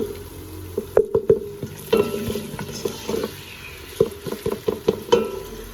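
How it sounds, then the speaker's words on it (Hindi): Salt, cumin and turmeric sautéing in a pan, a steady sizzle under repeated sharp scrapes and taps of a spoon stirring against the metal, close and fairly loud with no talking. "थोड़ा इनको सौते करते हैं, फिर इसमें हम बाकी मसाले डालें"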